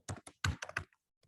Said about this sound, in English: let's just type into DuckDuckGo